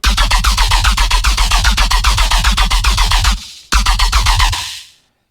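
A gritty, buzzing layered riddim synth bass pulses in fast, evenly repeated hits, cuts out briefly, returns, then fades away; loud and alone.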